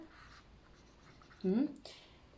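Pen or marker strokes on a board while sketching a cell diagram in a natural science lesson, short scratchy marks beside a brief spoken word from the teacher.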